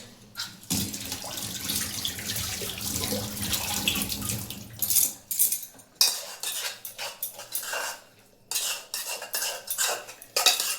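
A spoon clinks and scrapes against a pan while aloo kabli is being stirred, with running water and dish sounds in bursts. The clatter is close and irregular, with short pauses between strokes.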